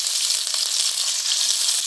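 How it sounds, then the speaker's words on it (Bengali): Chopped onion hits hot oil in a heated karahi, producing a loud, even, close-up hiss of sizzling that holds steady for its short length with no talk. "তেলে দিয়ে দিব পেঁয়াজ কুচি"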